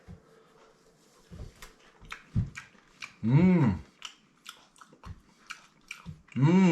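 Bites and chewing of a grilled fish steak, close to the mic, with separate crunchy bites and wetter chewing in irregular bursts and quiet gaps between.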